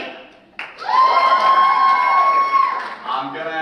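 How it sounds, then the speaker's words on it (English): A conference audience lets out a loud, sustained burst of cheering and shouting to vote for a video. It rises suddenly and holds steady for about two seconds before fading into general crowd noise. "the video had a loud burst cheer"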